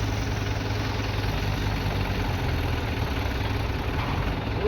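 A tractor engine labours under load, a loud, close, low heavy throb with steady vibration that continues without pause.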